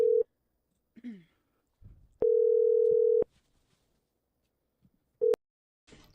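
Telephone call tones before voicemail: a short beep, a longer steady tone of about a second, then another short beep, separated by near silence with faint noises between them.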